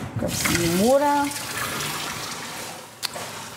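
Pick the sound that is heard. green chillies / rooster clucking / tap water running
tap water running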